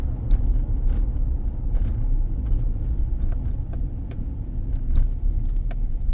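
A 2015 Chevrolet Silverado pickup shudders while driving, likely from a torque converter fault: a steady, heavy low rumble of road and engine noise runs throughout, with faint scattered ticks and knocks above it.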